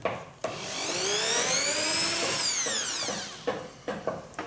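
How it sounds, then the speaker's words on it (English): A power drill bores into an aerated concrete block, its motor spinning up and holding a steady whine for about two seconds before winding down, followed by a few short knocks and rattles. "use this to drill because it's faster"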